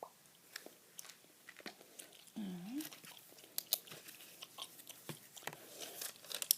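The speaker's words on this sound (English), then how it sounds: "here's the bubble gum I'm chewing tonight, by the way. Bazooka. Sugar-free" Sugar-free Bazooka bubble gum being chewed close to the ear, with soft wet smacks and clicks in an irregular rhythm over a quiet background, plus a brief low vocal murmur.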